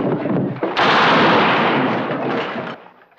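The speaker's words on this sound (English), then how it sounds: "It's pretty fair shooting for an old married man." Gunfire in a western film trailer set in frontier territory: a loud, dense burst of shots lasting about two seconds that fades at the end, preceded by a sharper crack.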